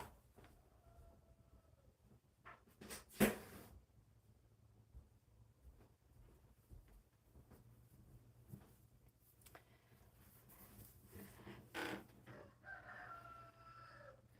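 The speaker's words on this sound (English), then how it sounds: "My rooster is crowing." A rooster crows faintly from a distance, heard indoors through quiet room noise with scattered soft bumps and clicks.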